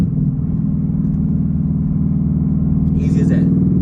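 A car's engine drones steadily and loudly through a fourth-to-third rev-match downshift, with the clutch pressed and the throttle blipped. The engine tone stays fairly even throughout, and a brief higher sound comes near the end.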